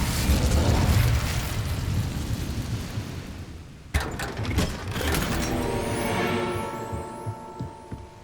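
Hogwarts Legacy's Incendio fire spell lets out a roaring whoosh that slowly fades, then a sharp crackling burst erupts midway and dies off into a ringing, sizzling tail. The sound is loud and close, with no voices.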